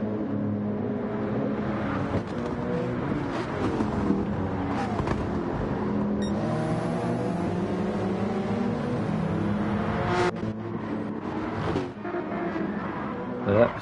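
A BWT Mercedes race car engine in Gran Turismo 7 at Brands Hatch, on soft tyres, revving and shifting up and down through gears with a continuous loud, whining drone.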